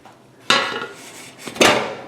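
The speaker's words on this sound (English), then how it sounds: "So now we're just going to pull it out of the oven." Metal baking dish pulled from an oven: two distinct clattering scrapes of metal on the oven rack, close and fairly loud, with no talk.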